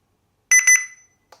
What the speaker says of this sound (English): That double beep and signifies pairing.